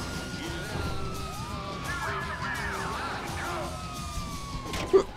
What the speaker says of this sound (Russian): Белые полицейские машины.